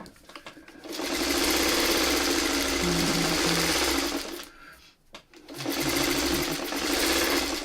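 A sewing machine stitches a quilt block in two steady runs, loud and close, with a whirring motor and rapid needle chatter and a brief stop between the runs.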